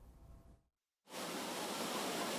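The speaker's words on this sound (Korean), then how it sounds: "바위를 타고 시원한 폭포수가 쏟아져 내립니다." Water from a large artificial waterfall pours down over rocks, a loud steady broadband rush that bursts in after a brief silence and continues unbroken.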